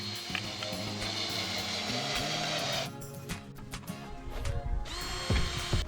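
A power drill drives timber screws into a wooden bed frame in short whirring bursts, close and moderately loud, with brief pauses between runs.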